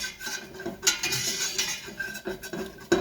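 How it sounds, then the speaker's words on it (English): A whisk scrapes and clinks steadily around a pan as a thin paste is stirred, with a sharper metallic knock near the end and no voices. "You want to keep whisking it."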